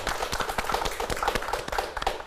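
A studio audience claps together on a Korean talk program about CEOs and books, a dense, steady patter of hands heard close and fairly loud for a couple of seconds.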